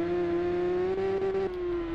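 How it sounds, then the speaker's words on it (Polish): A tuned 2002 Yamaha R1 motorcycle engine drones steadily at a constant pitch, swelling slightly in the middle, then dips briefly and settles back to a smooth hum. "po tuningu oczywiście o wiele lepszy dźwięk jest tego motocykla"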